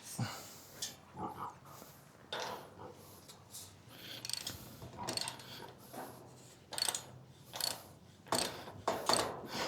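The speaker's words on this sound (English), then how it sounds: "we got our bottom bolt in here to hang our gate, and I'm just gonna tighten this" Bolt being tightened to hang a gate hinge on a farm, heard as repeated ratcheting clicks and metallic turning in short bursts, with pigs grunting nearby.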